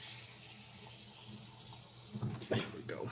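Water poured into a cup indoors, a soft steady trickle that ends in a brief louder splash, quiet and close.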